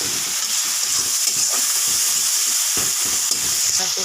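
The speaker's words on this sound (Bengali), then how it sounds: "অল্প লঙ্কার গুঁড়ো এটা কিছু সময় নেড়ে হালকা জল দিয়ে কষিয়ে নেব" Chilli powder masala sizzles and fries in a pan for a bata fish curry, a loud, continuous hiss broken by the scrape and knock of a spatula stirring at close range.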